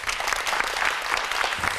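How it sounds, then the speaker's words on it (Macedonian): A studio audience at a television show bursts into sustained, even applause, many hands clapping densely and loudly throughout without a break. "Може да слушнам еден огромен аплауз."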